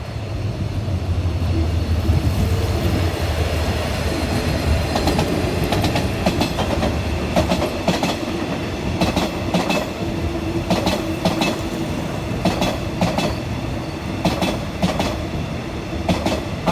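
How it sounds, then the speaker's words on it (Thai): Hitachi diesel locomotive 4505 hauls special express 32, Hat Yai to Bangkok, past a level crossing south of Ban Pong station, with a loud close engine rumble and steady rhythmic clickety-clack of wheels over rail joints. "วันนี้ทำขบวนโดย ฮิตาชิ 4505 นะครับ"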